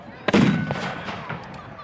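A single cannon blast at an American Civil War reenactment, a sharp loud boom that rolls off into a short echoing decay outdoors.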